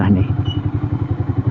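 A motorcycle being parked idles close by with a steady, low pulsing engine throb that sits loud and even throughout.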